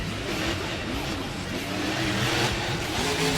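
Max D monster truck engine revving in a stadium freestyle run, a loud, dense roar sustained throughout with rising and falling revs under a noisy crowd and announcer.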